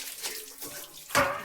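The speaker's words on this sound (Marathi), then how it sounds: "भांडी धुतोय बाबा" Tap water runs steadily while someone washes pots and pans at a sink, with a brief louder gush of splashing near the end; close and fairly quiet, no talking.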